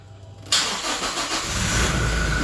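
Toyota Innova engine cranking and catching during a power steering fluid flush, starting abruptly after a half-second of quiet and then settling into a loud, steady, close idle.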